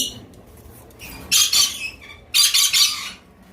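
Two tame pet birds at the Mirpur 11 bird and pigeon market give two loud, harsh squawk bursts, close by, over a quiet background.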